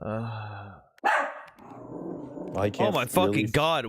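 A poodle barks loudly and sharply close to the microphone, one abrupt burst cutting in as people talk and react excitedly over the call.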